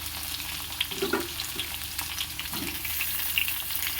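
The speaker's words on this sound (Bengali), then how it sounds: "আলুটা অলমোস্ট ভাজা ভাজা হয়ে গেছে বেশি ভাজবো না অল্প ভাজবো" Potatoes fry in oil in a pan, a steady close sizzle with a few brief louder bubbling bursts and light stirring noises, no one speaking.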